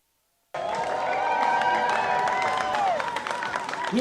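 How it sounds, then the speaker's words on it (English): Applause from a ceremony audience marking a leadership handover to a new Chief Warden, starting abruptly and holding steady as a dense crowd clapping with scattered cheers, then thinning slightly toward the end. "you can hear the round of applause in the Honorable Minister."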